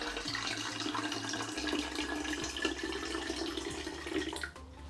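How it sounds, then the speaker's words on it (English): Warm water pours steadily into a container for home-brewed hard apricot soda, with a continuous gurgling rush and a few small knocks, stopping near the end. "let's get a little bit more warm water in there, so about halfway."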